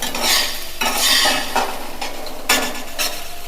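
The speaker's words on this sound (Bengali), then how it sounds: "এর মধ্যে ডালটাও ভাজা হয়ে গেল আর আদা রসুনও মোটামুটি ভাজা হয়ে যাচ্ছে।" Lentils with ginger and garlic fry in a pan while being stirred, giving a steady close sizzle broken by bursts of scraping spatula strokes, with no voices.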